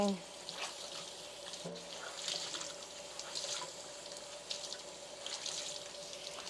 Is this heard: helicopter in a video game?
no